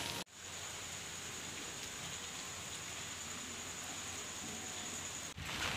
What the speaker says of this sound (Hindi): सुबह सुबह बारिश आ गई है